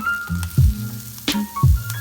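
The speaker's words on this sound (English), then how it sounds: "Next step, we're gonna fry the tofu." Tofu fries in a pan with a close, busy sizzle, broken by a couple of soft stirring bumps and scrapes; no voices.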